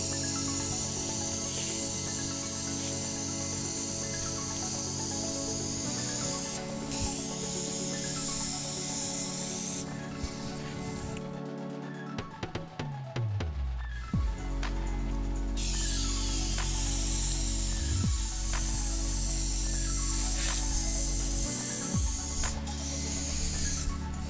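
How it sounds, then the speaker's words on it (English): An adjustable spray gun applies QDEK 2400 self-adhesive membrane primer with a steady, loud hiss along an edge, briefly cutting out and stuttering before resuming as a wider, full-width spray pattern. "So I'm now going to adjust the spray gun to widen the spray pattern out."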